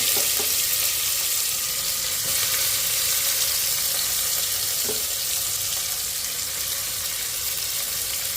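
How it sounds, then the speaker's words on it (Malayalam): Sliced onions fry in hot oil for beef palli curry, a loud, even, continuous sizzle close up with a few faint clinks of stirring, no voices. "എണ്ണ ചൂടായി വരുമ്പോൾ നമുക്ക് സവാള ഇടാം"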